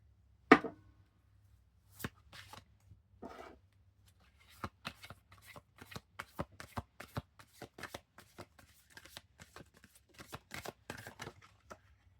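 A Spirit of the Wheel oracle card deck is shuffled by hand, giving soft, crisp riffles and taps that come quickly in an uneven rhythm after one sharp opening snap, close up in a quiet room.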